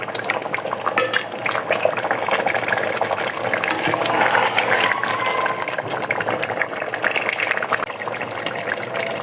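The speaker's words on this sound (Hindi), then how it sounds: "अब हम इसको अच्छी तरह इस मसाले में बिल्कुल हल्की आंच पे पकाएंगे" Biryani masala cooking on a very low flame, a dense steady bubbling simmer and soft sizzle with occasional light clinks of a spoon against the pot, close and continuous.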